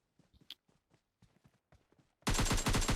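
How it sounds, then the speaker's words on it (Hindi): Gunfire in the mobile game PUBG Mobile Lite arrives as a sudden loud burst of rapid automatic shots after a stretch of quiet footsteps, continuing until the end. "फायर करना शुरू कर दिया था उन्होंने"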